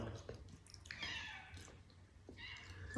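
A cat meowing softly, a few faint, short calls rising and falling over a quiet background of low rustle and hum.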